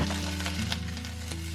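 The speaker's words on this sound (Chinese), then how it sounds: "炒到这种深褐色，我们就把排骨倒去" Pork ribs hit hot oil and dark caramelized sugar in a pan and are stirred, producing a loud, steady close sizzle with faint scraping underneath.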